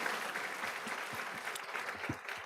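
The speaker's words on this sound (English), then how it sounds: "A big round of applause for them." A school board meeting audience applauds, with steady close clapping from a modest crowd throughout the brief moment.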